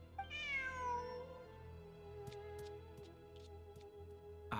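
A cat meows once in the Genshin Impact video game, a drawn-out, clear call near the start, followed by a low steady game background hum with faint ticks and no speech.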